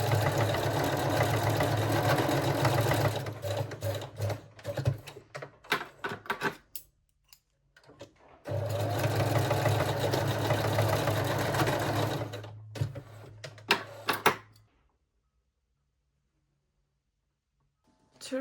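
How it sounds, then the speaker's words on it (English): Sewing machine running a straight stitch on a bikini top: two long, steady, close whirring bursts, each winding down with a few stuttering stops, then silence. "Now I will sew them in a place with a straight stitch."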